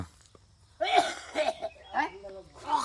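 A person coughs near a home where a fish seller has come in the morning: about four short, close, harsh coughs in quick succession after a quiet start.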